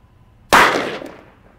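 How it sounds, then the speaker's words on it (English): A .357 Magnum 158-grain XTP round fired from a Smith & Wesson Model 27 revolver into ballistic gel behind four layers of denim: one sharp, loud gunshot crack with a short decaying ring, alone. "we have our 357 Magnum, 158 grain, XTP, traveling at just over 1200 feet a second, out of our Model 27 Smith & Wesson"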